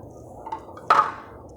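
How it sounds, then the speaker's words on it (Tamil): Sautéed okra tipped into a cooking pan, a single brief clatter and sizzle-like burst, close and moderately loud against quiet kitchen background. "இந்த வதக்கி வச்சுருக்க வெண்டைக்காயை கொட்டிட்டு"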